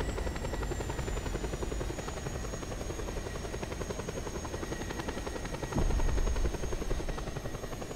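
Helicopter in the Just Cause 2 video game: a steady, loud rotor drone with rapid chopping pulses and a high whine running throughout, swelling briefly louder near the end.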